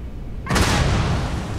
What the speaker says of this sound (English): let's switch over to this, and then just like lob a grenade up there